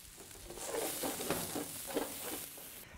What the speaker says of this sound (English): After several minutes, the onions are completely cooked